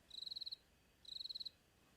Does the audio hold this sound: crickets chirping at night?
yes